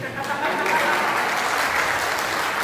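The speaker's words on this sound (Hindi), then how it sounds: "तालियां बजा देंगे।" Steady, dense applause from a Hindi poetry-recital audience at a kavi sammelan, sustained and fairly loud throughout with no clear voices over it.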